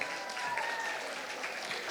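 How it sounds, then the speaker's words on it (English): Applause from an audience at an International Women's Day gala, a steady wash of many hands clapping at moderate level for a couple of seconds with no distinct voices on top. "A round of applause for us."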